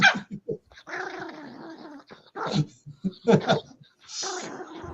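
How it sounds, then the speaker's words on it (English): A dog growls and yips while biting and tugging on a pillow, with short, close bursts of snarling noise repeating across a few seconds. "I'm teasing the dog."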